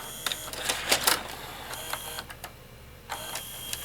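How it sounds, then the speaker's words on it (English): A 1998 Zenith Allegro VCR, top cover off, threads a tape with a quick run of close mechanical clicks and whirring clatter, busiest early and then a few scattered clicks near the end. "It's threaded the tape."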